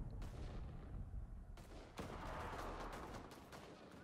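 Distant gunfire in a World War II battle game set in Berlin, with irregular bursts of shots and rumbling booms rolling together, faint and muffled throughout.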